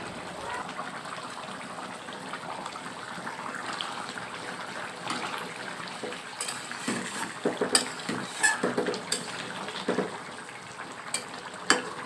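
Fried puti fish go into a simmering curry in a pan, a bubbling sizzle with clinks and knocks of a spoon against the pan, the clatter growing busier toward the end.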